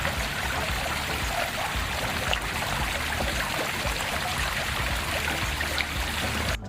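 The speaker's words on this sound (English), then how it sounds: "do these water features where you have a spigot that goes into it" Water from a spigot in a small garden water feature trickles and splashes continuously, a close, steady rushing patter with no pauses.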